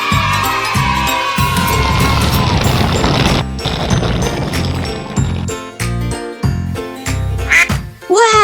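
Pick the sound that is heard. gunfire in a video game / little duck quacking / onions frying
little duck quacking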